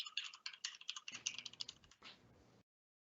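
Fast typing on a computer keyboard while entering an email address, a close, dense run of crisp key clicks for about two and a half seconds, then silence.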